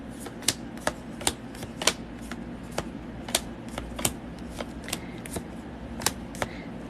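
A deck of tarot cards is shuffled close up, giving a rapid run of crisp, evenly spaced riffling snaps at a moderate level.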